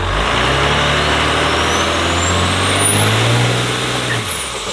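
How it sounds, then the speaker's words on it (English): Ford F350 truck fitted with a 12-valve Cummins turbo diesel from a 98 F700, with power-driven injectors, bigger injection pump and bigger turbo, idling loud and close with a steady low rumble and a rising turbo whistle. "this one has a 12-valve Cummins turbo diesel in it out of a 98 F700 Ford medium-duty pickup truck"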